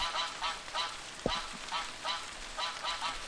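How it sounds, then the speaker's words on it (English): A duck in the video game Minetest gives repeated soft, nasal honks in an even rhythm over a steady game background hum, with one sharp knock partway through. "Karate Duck snuck up on me behind"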